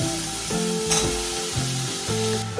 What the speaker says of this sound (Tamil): இப்போ நான் மஷ்ரூம்ஸ் ஆட் பண்றேன்.